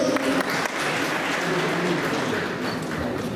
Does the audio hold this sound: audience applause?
yes